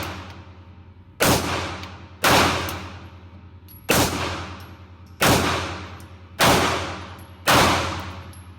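A CZ P-07 pistol fires six sharp, loud shots at an outdoor range, spaced about a second apart, each followed by a short echoing decay.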